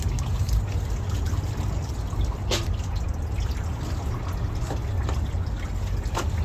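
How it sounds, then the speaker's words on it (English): Apple juice trickles and drips steadily into a water pan in a smoker over a low, constant rumbling background, with occasional brighter splashes. "then we'll put the rest of that apple juice back into the water"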